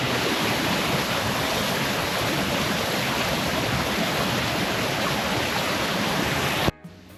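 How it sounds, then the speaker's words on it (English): Steady roar of a waterfall in Bali, broadband rushing water filling the scene at constant loudness until it cuts off near the end. "This is the first waterfall that we've actually enjoyed in all of Bali so far."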